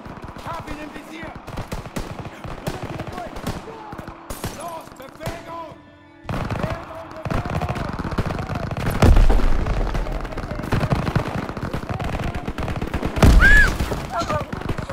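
Gunfire in the World War II shooter game Call of Duty WWII: rapid machine-gun bursts and scattered single shots with occasional heavy booms, some distant and some close, over game sounds and intermittent talk.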